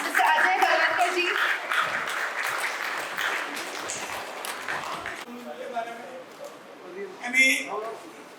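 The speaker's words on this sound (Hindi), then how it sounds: "एक बार फिर जोरदार तालियां हो mister Gaurav Banerjee and mister Ajay बलवंतर ji." Dense applause from an audience at the 18-year anniversary celebration of the TV show Taarak Mehta Ka Ooltah Chashmah fills the first half loudly, then thins out under a calmer stretch with a brief bright burst near the end.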